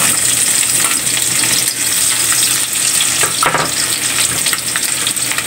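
Garlic sautéing in hot, colored oil for Filipino bopis, a loud, steady sizzle and crackle of frying that runs throughout, with brief stirring scrapes near the middle.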